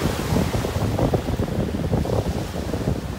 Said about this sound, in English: Hopefully all these waves bring up some nice new shells along the beach.